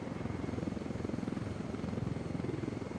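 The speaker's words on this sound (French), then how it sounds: "Un hélicoptère en bas à gauche, regardez." Steady rotor chop of a helicopter in Ghost Recon Wildlands with a rapid pulsing drone, fairly distant and constant throughout, no voices.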